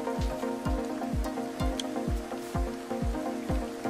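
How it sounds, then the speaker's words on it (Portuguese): Rain during a truck drive in Euro Truck Simulator across the UK, a dense steady patter with rhythmic thumps from windshield wipers sweeping about twice a second over a constant engine hum. "E a chuva aqui não deu trégua. Foi a viagem todinha com essa chuva."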